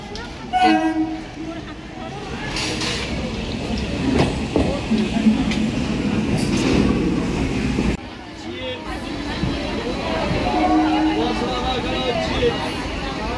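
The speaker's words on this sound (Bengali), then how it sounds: "ট্রেনে উঠে পড়েছি, ট্রেনটা ফাঁকাই ছিল।" Steady rumble and rattle inside a moving suburban train near Sealdah, with faint whistle-like tones and some background chatter from passengers.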